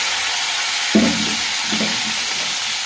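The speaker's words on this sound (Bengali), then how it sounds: "এখানে রসুন গোটা নিয়ে নিয়েছি ছাড়িয়ে, কাঁচা লঙ্কা গোটা ধুয়ে নিয়েছি, দিয়ে দেবো তেলের ওপর।" Whole peeled garlic cloves and whole green chilies drop into hot oil, setting off a sudden loud sizzle that keeps crackling steadily over a constant frying hiss.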